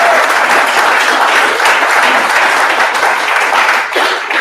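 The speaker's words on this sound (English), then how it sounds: "So just one quick round of applause for those sponsors." Audience applause for event sponsors at a mountain bike club's monthly meeting, a steady, dense round of clapping from a full room, loud and sustained for several seconds before tapering slightly near the end.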